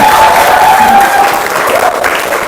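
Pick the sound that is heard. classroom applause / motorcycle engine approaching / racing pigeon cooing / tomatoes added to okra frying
classroom applause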